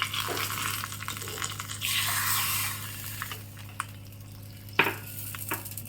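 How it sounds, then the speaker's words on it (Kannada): Hot oil with mustard seeds, cumin and curry leaves sizzles in a village-style Malenadu tempering for a tomato tambuli. A steady crackling hiss rises and falls, punctuated by a few sharp metal clinks from a utensil. "ಈಗ ಇದಕ್ಕೆ ಒಂದು ಬಿಸಿ ಬಿಸಿಯಾದ ಒಗ್ಗರಣೆ ಹಾಕೋಣ ಎಣ್ಣೆ ಸಾಸಿವೆ ಜೀರಿಗೆ ಹಾಕಿದ್ದೀನಿ ಮತ್ತು ಕರಿಬೇವು"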